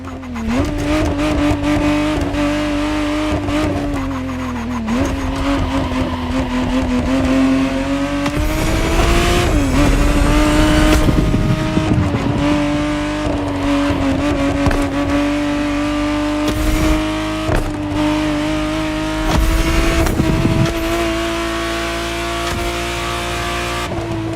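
A 1991 Ferrari Testarossa in The Crew Motorfest racing game drones steadily at high revs, its engine note rising and dipping through gear changes and bursts of acceleration, loud and continuous with no talk.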